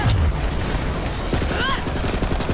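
Rapid gunfire from a weapon in Borderlands 3 played with an Amara build, a dense burst of loud shots with booming low end and pulsing repeats, mixed with game effects and a voice talking over it.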